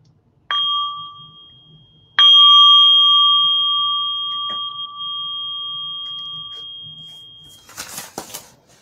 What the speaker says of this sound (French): on va sortir de cette micro-pratique avec un autre son de la cloche